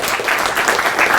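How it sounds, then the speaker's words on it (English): A lecture audience at UC Berkeley applauds before a talk, a dense, even burst of many hands clapping that fills the room with no voices. "this practice of clapping before the talk, I don't know, it's dangerous"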